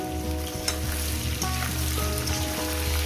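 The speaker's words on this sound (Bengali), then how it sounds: "প্রথমে এই সবজিগুলো আমি ভালো করে ভেজে" Green beans and eggplant fry in a pan for a niramish chorchori with spinach and bori, giving a steady, close sizzle with brief stirring clatters and no talk.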